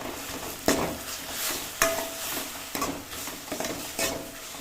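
Jaggery frying in a pan for a sour-sweet chutney, stirred with a spoon: regular scraping strokes about once a second over a light, continuous sizzle.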